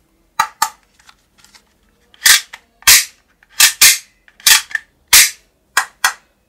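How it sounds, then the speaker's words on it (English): A green ball-bullet toy sniper gun fires about nine sharp, loud pops in irregular pairs and singles over six seconds, each a crisp snap with a short mechanical click, no talking. "This is green color ball bullet toy gun."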